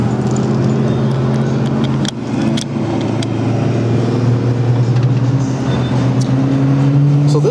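Yamaha FZ6 motorcycle engine running at a smooth, steady idle up close, a continuous low hum with a brief dip early on and a few light clicks and knocks over it.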